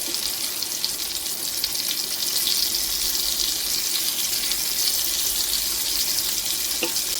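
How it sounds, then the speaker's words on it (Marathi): Fish frying in oil in a pan gives a steady, even sizzle that runs throughout at moderate volume, with no talking. "त्याच्या आजूबाजूला मी तेल टाकते म्हणजे ते चिटकणार नाही."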